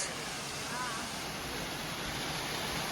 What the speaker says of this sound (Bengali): জাস্ট দেখুন ঝর্ণাটা, জাস্ট দেখুন।